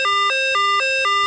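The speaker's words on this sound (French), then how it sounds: "ce qui sonne là, c'est une alarme." An alarm rings in a vehicle fitted with a GPS tracking and engine-cutoff system, sounding as a loud, close, repeating two-tone electronic chime that alternates high and low notes several times with no talk.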